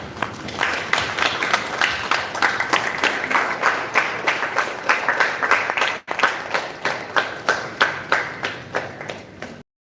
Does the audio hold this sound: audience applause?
yes